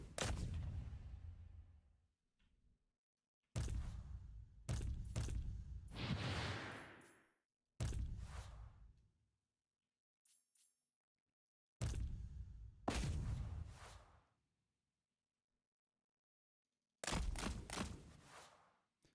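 Cannons fire in the battle game Total War: Warhammer 3, sounding as about seven or eight separate heavy booms spread across the span, each with a decaying tail and silence between them.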